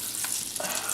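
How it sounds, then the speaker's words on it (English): Chicken breast laid skin down in hot oil sizzles loudly and steadily in a pan, a dense crackling hiss that swells slightly near the end, with no voices. "we're going to let that pan fry"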